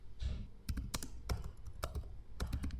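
Typing on a computer keyboard, a quiet series of crisp key clicks in small irregular bursts, close and alone.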